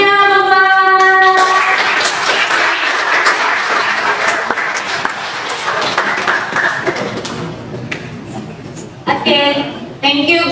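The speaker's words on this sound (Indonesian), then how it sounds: "Kasih tepuk tangan saya lagi." A seminar audience claps after a group presentation, a loose spread of applause that thins out, with a speaker's voice at the start and end.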